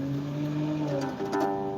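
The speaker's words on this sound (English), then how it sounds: "you might hear some cars in the background" A car passes by outside, its engine hum rising and shifting in pitch as it goes, heard at a moderate distance with no one talking.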